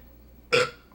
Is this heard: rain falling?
no